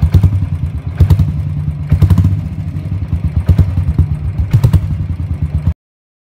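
A Royal Enfield motorcycle fitted with a Dolphin glass wool silencer thumps loudly and close by, a deep rhythmic exhaust beat with several sharp revs spaced about a second apart, heard alone.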